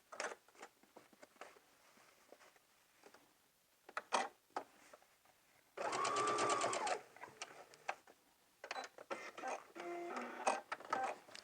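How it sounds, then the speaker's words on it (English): A sewing machine bastes across the top edge of a lined pencil skirt in short bursts of rapid stitching, one longer run in the middle, between light handling clicks and rustles and no talking. "we're going to go ahead and baste across the top edge, making sure that the raw edges are even along the top."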